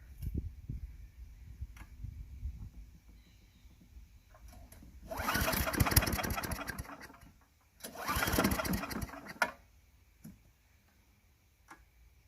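A Craftsman Eager 1 chipper vac with a 4 hp engine is pull-started twice: two loud bursts of engine noise, each lasting a couple of seconds, separated by quiet pauses, with no voices.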